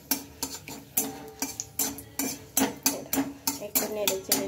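Bay leaf and a halved chili stirred in hot oil in a pan, a run of sharp spoon-on-metal clinks in an uneven rhythm, close and fairly loud, with no one talking.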